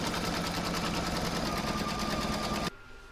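An embroidery machine sews a decorative satin stitch border around the nut of an acorn placemat, hooped in one piece. The stitching is a steady, fast mechanical whir with a close, even rhythm that stops abruptly near the end.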